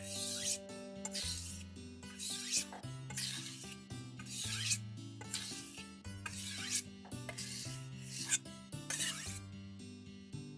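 Knife blade drawn repeatedly across a sharpening surface to remove the burr, about eight bright rasping strokes in a steady rhythm, close and fairly loud, with low tonal music underneath.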